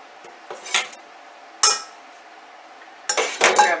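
Metal cutlery and knives clattering against each other in a kitchen while making pizza dough, three separate bursts of sharp clinking and rattling with quiet gaps between them.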